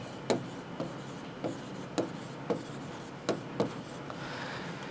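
A marker or chalk taps and scrapes across a board in a chemistry lecture hall: a series of short sharp strokes at an irregular pace, close and clear, with no talking over them.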